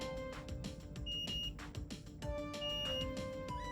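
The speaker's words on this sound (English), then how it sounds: "Put the multimeter in continuity mode so that when the two pins connect it beeps." A multimeter in continuity mode beeps in short bursts as probes touch components during a Nintendo Switch no-power repair, several separate tones with clicks and handling noise between them, fairly quiet and close.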